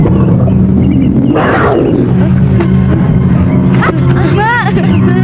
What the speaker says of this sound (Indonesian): Suara macan.